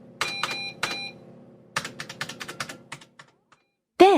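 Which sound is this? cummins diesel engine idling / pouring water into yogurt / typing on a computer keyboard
typing on a computer keyboard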